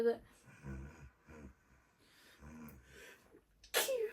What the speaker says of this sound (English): when you sneezed